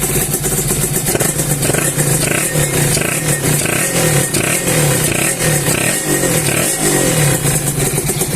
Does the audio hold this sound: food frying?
no